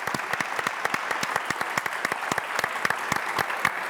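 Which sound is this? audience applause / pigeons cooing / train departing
audience applause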